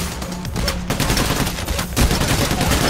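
Dense, continuous gunfire fills the video game PayDay The Heist, with rapid overlapping shots and loud cracks carrying on without a break from start to finish.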